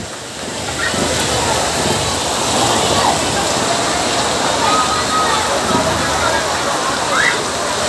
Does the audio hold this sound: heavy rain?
yes